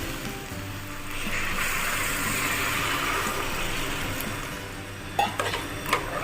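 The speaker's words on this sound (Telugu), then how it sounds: "ఇప్పుడు దీంట్లో నేను వాటర్ వేసుకుంటాను" Water streams steadily into a pan of chopped bottle gourd and chana dal for several seconds, a broad rushing splash at close range, ending with a couple of sharp metallic clinks of the pan.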